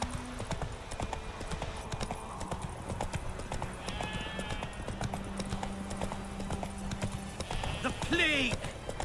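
Steady hoofbeat clip-clop of a galloping horse in The Witcher 3, with a brief whinny near the end, set against ambient game sounds and faint background chatter.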